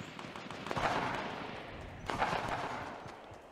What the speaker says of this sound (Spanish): ya se están dando de tiros, pero a casco porro